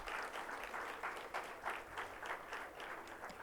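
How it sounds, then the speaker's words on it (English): Steady applause from an audience at the inauguration of a student literature festival, dense and sustained clapping with rolling swells, heard alone without talk. "Please give her a round of applause."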